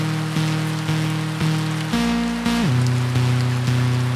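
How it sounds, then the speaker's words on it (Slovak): Rain falls outdoors in the Orava region as a steady, close, hissing patter, with a faint tonal hum running underneath and no voices. "tak na Orave konečne prší"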